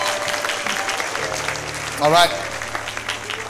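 Church congregation clapping during a Sunday service, a short burst of applause under someone speaking.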